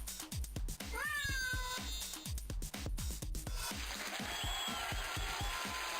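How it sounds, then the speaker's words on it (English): Cats meow in the Jingle Cats video game, several sung meows and one rising yowl set over a steady thumping music beat, loud and close throughout. "Sprocket joins the Jingle Cats."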